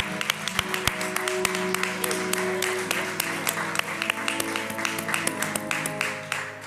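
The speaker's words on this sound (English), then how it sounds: "give God a hand praise, hand clap of praise for you" A church congregation claps to welcome visiting guests, producing scattered sharp hand claps over a sustained hum and background clatter, with crisp individual claps standing out throughout.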